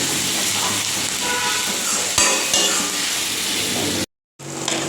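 Onions frying in a pan for a Bengali fish curry, a loud, steady close sizzle that runs unbroken, then cuts out briefly near the end and resumes.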